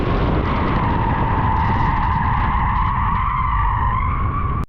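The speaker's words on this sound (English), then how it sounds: "Joe, warming up in the powerful G87 M2" A BMW G87 M2 skids through an autocross lap, loud tire squeal holding steady over the engine's roar from start to finish.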